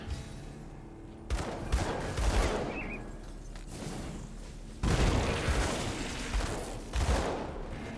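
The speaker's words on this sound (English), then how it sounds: "as soon as your attack speed goes up, you are starting to shoot, like, crazy" Rapid dual-pistol gunfire in the action RPG Grim Dawn, bursts of quick shots in dense clusters with short pauses between, punchy and close over game ambience.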